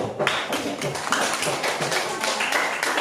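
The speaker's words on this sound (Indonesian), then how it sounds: "Semuanya tepuk tangan dulu." A school class claps hands together, a dense patter of claps that is fairly loud and close and continues through the whole stretch.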